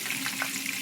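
Shrimp fry in a hot pan with a brief, steady sizzle and small pops of spattering oil.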